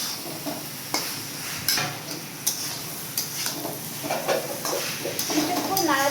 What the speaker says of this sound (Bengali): ফুলকপিটা দিয়ে একটু নাড়াচাড়া করে